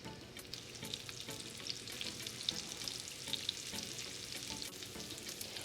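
Small pieces of salmon frying in a pan, a steady dense sizzle and crackle with occasional sharper pops and stirring sounds, close and even throughout, with no voices.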